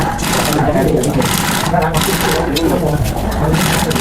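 Sewing machine stitching an elastic waistband onto trousers, a steady continuous mechanical whir running loud and close throughout, with no pauses.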